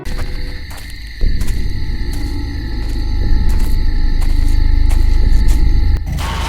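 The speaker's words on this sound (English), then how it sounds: "just take a look at how ridiculous the distortion effect is" Slenderman's distortion effect in a Slender horror game: a loud, steady buzzing static drone with pulsing tonal hum and crackle, swelling louder midway and holding to the end, with no voices.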